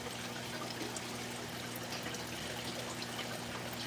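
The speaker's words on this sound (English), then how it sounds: "pretty much just doing a lot of water changes today in the fish room" Aquarium water drains through a hose during a water change in a fish room, a steady faint trickling flow under a low constant hum.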